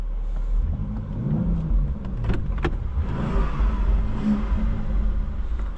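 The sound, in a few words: BMW X4 M engine accelerating and revving in M2 mode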